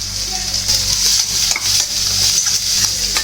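Curry leaves hiss and crackle in hot oil with onions as a spoon stirs them around the pan, a continuous close sizzle broken by brief scraping strokes.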